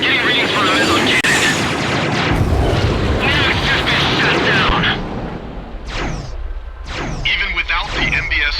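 Meson cannon blasts in the video game Ace Combat X, heavy booming bursts with rumbling explosions and roaring jet engines, sustained and loud, followed by sweeping whooshes while voices speak over the action.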